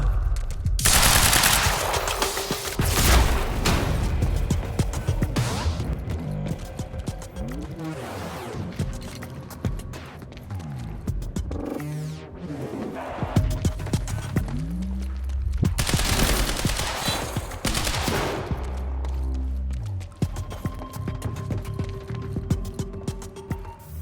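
Automatic and single-shot gunfire in the video game Quantum Break, with loud rapid bursts, mechanical reloading clatter and shifting impacts over a long firefight, close and dense throughout.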